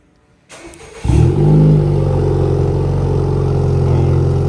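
A 2021–2023 Acura TLX engine starts by OEM remote start: a click and brief starter crank, then the engine catches with a loud rise and settles into a steady, close idle rumble, no talking.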